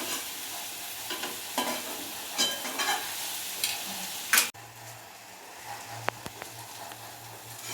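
Okra and chickpea masala for Punjabi bhindi chole frying in a pan, with repeated spatula stirs over a sizzle that drops to a quieter steady fry after a sudden cut, plus a few sharp taps.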